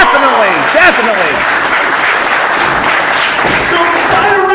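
Crowd applause and cheering at a UWA Elite wrestling event fills the room steadily, loud and dense, with voices shouting over the clapping throughout.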